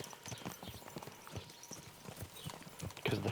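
Horse hooves in the video game Kingdom Come Deliverance 2 clip-clop in a quick, uneven rhythm on a hard surface, close by, with a louder burst near the end.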